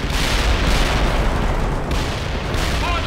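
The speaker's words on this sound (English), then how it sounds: "Watch that enemy! They're shooting at us!" Gunfire and booms from the war game World in Conflict, with dense, continuous rattling shots and blasts packed close together across the whole stretch.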